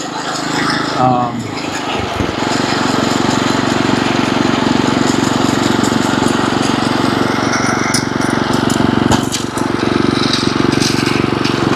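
A lawn mower drones steadily while mowing grass, a loud continuous engine roar held close throughout with a brief dip near the start and scattered clatter.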